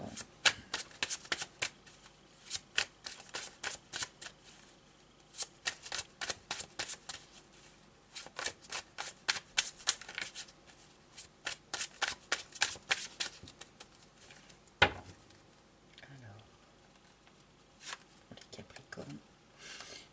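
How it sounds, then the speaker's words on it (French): Tarot cards are shuffled by hand in rapid bursts of crisp riffling flutters, close and clear, with short pauses between runs and a quiet voice near the end. "je vais quand même prendre quelques cartes du tarot"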